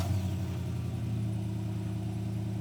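A 2021 GMC Yukon Denali's 6.2L V8 idles with a steady, deep low rumble that holds close and even throughout, with no other sounds over it.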